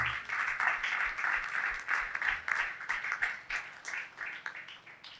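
Audience applause at a Swahili testimony gathering, a dense steady clatter of many hands clapping that swells and dips in waves throughout, fairly loud and without any talk over it.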